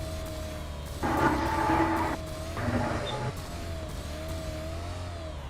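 A motorcycle engine revs twice in short roaring bursts, the second slightly shorter, over a low steady hum.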